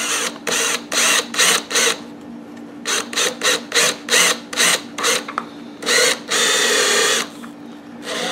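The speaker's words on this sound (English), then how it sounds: "I use a step drill because it's quick and easy." Repeated short bursts of a power drill with a step bit biting into a Pulsar PG4000iSR generator's casing, stopping and starting in quick pulses, then a longer final run, close and loud.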